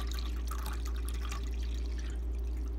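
Water trickles and drips softly into the plastic reservoir of a Keurig coffee maker, a faint, close splashing over a steady low hum.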